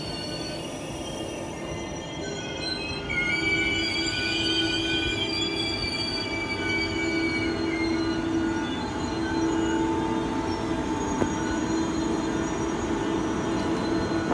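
A train pulls out of Den Haag Centraal station, its wheels squealing in long high tones over a steady rumble that stays loud and close throughout.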